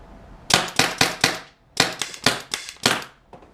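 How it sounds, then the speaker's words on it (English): A Tippmann TIPX paintball pistol fires on CO2 in two quick strings of sharp, loud pops, about four and five shots, separated by a short pause. "now I can shoot my fourth mag too"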